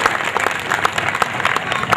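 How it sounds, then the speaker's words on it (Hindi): Loud, dense audience applause at an orchestra and felicitation event for a union minister's birthday, a large crowd clapping steadily and evenly throughout. "जरा प्रेमाने जोरदार टाळ्या वाजवा"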